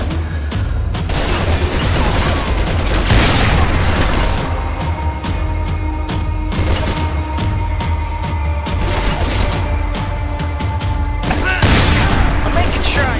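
Rapid gunfire from Max Payne 3, loud and nearly continuous, with repeated shots and heavy booming impacts bursting in clusters, while a voice talks over the action.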